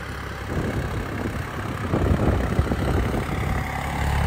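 A Deutz-Fahr 70 hp tractor engine after a turbo upgrade runs at a steady low rumble, louder and rougher toward the middle, with no talking.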